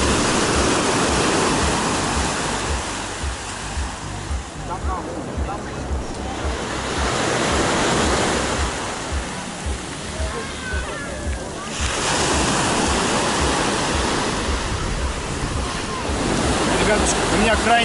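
Sea waves wash ashore on the Black Sea coast at Sochi in surging swells that rise and fall every few seconds, loud and close, with wind buffeting the microphone throughout.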